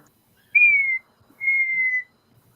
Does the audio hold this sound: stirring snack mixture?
no